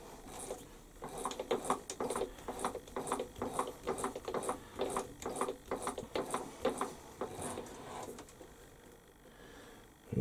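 Hand tapping a thread in a fire piston on a lathe: a close, steady run of rhythmic metallic clicks and ratcheting scrapes, about two per second, easing off near the end.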